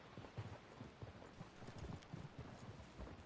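Horse hooves clip-clop in a steady walking rhythm across a ride in Red Dead Redemption 2, moderately close, with faint voices and game ambience around them.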